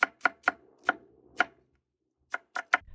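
A knife chopping cabbage on a cutting board, a few crisp, close thuds in an uneven rhythm with a short pause before a final quick burst of three chops.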